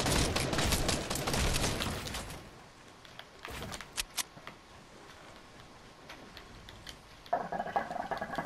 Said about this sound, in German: Guck mal, ich werde angeschossen und er rennt weg.